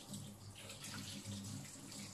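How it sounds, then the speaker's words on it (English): Hands are rinsed under running tap water after handwashing, a steady, soft splash and hiss with no talk over it. "Right, and then you can rinse,"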